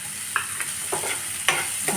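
Onions frying gently in a little oil on a low flame for a cashew drumstick curry, a soft steady sizzle with a few light stirring scrapes, close up.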